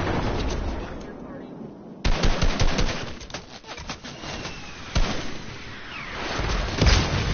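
Gunfire in a PS4 video game, with loud, sharp shots and heavier blasts breaking out at intervals over a constant noisy background, while a player talks throughout.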